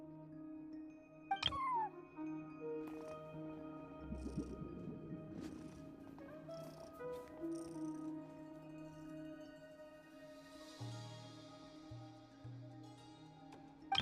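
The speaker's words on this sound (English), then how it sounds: "No one except for a cat watching over the front desk." Cat meowing at a front desk in Genshin Impact: a short, close meow early on rises over soft game music, with a few fainter cries later. No one talks.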